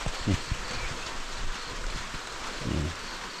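Steady rain falls outdoors during a morning fishing outing in cold weather, a dense continuous hiss at moderate level with a few low thumps and rustles nearby.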